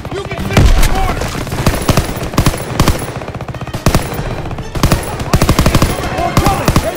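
Battle gunfire in Call of Duty: WWII, loud rapid bursts of machine-gun and rifle shots crackling nearly nonstop, close and sharp, with shouted voices mixed in among the shooting.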